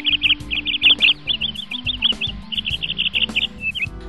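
Several birds sing in Bosque dos Buritis, a wooded park beside Lago das Rosas in Goiânia, with bright, rapid chirping phrases repeating close and clear over a low hum of city traffic.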